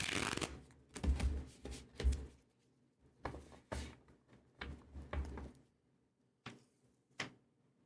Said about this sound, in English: I just do a few more shuffles here.